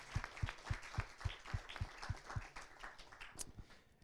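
Steady applause from an audience at a university science-communication contest final, many hands clapping in a lively rhythm that gradually thins out toward the end.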